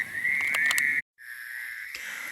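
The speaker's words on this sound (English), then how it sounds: "I hope you can hear me over the frogs" Frogs calling at a lake at night, a steady dense chorus of high trilling croaks running close and loud, cutting out briefly before resuming just as strongly.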